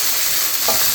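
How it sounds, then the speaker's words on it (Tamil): Drumstick and brinjal sautéing in a pan, a dense, loud, continuous close sizzle with one brief stirring scrape near the end. "இது நல்லா வதங்கட்டும்."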